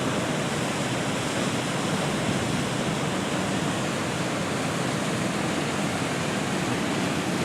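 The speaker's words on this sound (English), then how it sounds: "It's amazing how that water's coming between those two big stands of rock there." Wren Falls pours between two large stands of rock in a continuous, dense roar of rushing water that stays steady and close throughout.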